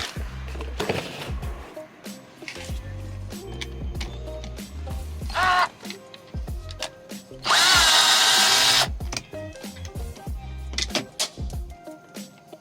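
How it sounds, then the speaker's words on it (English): A power drill whirs in short bursts while backing out a Phillips head screw from black car trim, with one longer, louder high-pitched run in the middle and clicks and handling noises between. "So there's a screw right there. It's a Phillips head. You need to go ahead and pull that out"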